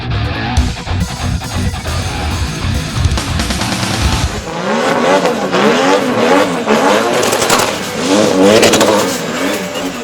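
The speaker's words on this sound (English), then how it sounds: "on Saturday night the annual North vs South Drift Challenge gets underway" Cars drifting at the 2018 Waimate 50 Motorsport Festival's North vs South Drift Challenge, loud engines revving hard with bouncing rev-limiter notes and tyre squeal, one car roaring close before another screams past, continuous throughout.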